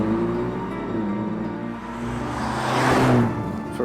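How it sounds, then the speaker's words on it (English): A Ferrari Roma's front-mounted V8 burbles through its four exhaust pipes, a deep, close engine note that swells and rises steadily with no talking. "that utterly unmistakable burble of a Ferrari V8"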